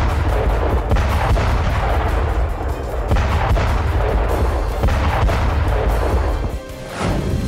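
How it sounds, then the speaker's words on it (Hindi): Heavy artillery barrages and gunfire from a military strike on Russian army positions in Donetsk, with dense, continuous booming blasts and crackling shots rolling loudly throughout, briefly easing near the end. "जुलाई 2022 डोनेस्क में पुतिन आर्मी के ठिकाने पर मेगा स्ट्राइक।"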